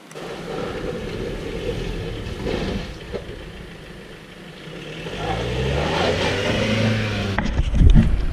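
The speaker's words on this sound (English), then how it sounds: "This is my winter drive. This is my car. This is cool drifting." A car on a snowy winter road drifts and drives, its engine droning steadily with rising and falling revs and a louder surge near the end, close to the camera with no talk.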